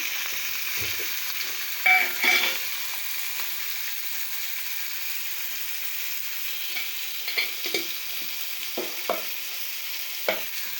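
Jalla fish curry fries in a pan as tomato is stirred in, with a continuous close sizzle and occasional soft scraping and clinking stirring strokes over it.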